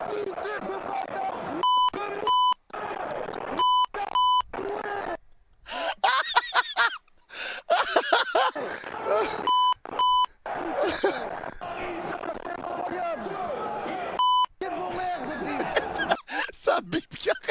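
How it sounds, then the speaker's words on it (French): Repeated short electronic beeps like a reversing car, sounding in quick pairs and singles amid excited chatter, gasps and laughter from people reacting. "Ça bip dans tous les sens"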